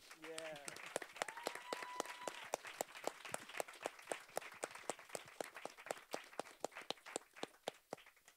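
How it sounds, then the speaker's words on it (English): A small audience at a talk on Caribbean spirituality in Amsterdam claps for the speakers. The claps are sharp and distinct, sparse and fairly quiet, keeping a loose rhythm, with a short burst of speech at the very start. "I would love a massive applause for everyone who has spoken so far"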